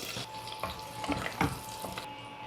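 Bay leaves, a small piece of stone flower, cinnamon sticks, a single star anise and cloves fry in hot oil, giving a soft, steady sizzle with a few light stirring knocks and crackles, close and alone.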